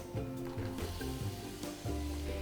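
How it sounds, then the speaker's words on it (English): Garlic and shallots sauté in hot oil in a pre-heated pan at medium heat, giving a close, busy sizzle with light stirring clatter over a constant bed of frying noise for a couple of seconds. "we're going to saute this at medium heat"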